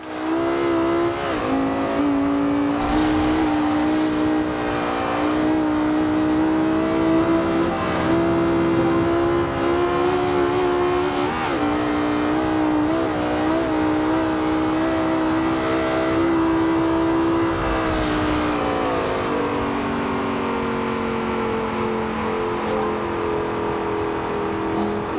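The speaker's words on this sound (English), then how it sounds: "Redlining in an LFA." Lexus LFA engine, tuned to 777 hp, redlining in the racing game Forza Horizon 2: a loud, high, sustained engine wail with a few brief shifts and surges, continuous and without speech.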